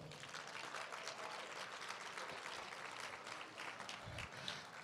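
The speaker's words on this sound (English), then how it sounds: "big round of applause for all of you" Continuous applause from a luncheon audience rolls on evenly at a quiet level, a crowd of many hands clapping together with no talk over it.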